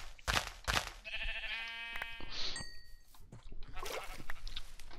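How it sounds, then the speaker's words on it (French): Sheep in the video game Minecraft bleat over a steady game background. Two sharp hits come first, then a long wavering bleat, a higher call and a ding, with more scuffling hits at the end. "On va tuer quelques moutons quand même"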